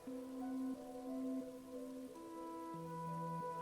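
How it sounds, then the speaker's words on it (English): Steady rain patters softly in the background of the video game Book of Hours, a quiet, even hiss that sits beneath gentle sustained musical tones. "It's a rainy day."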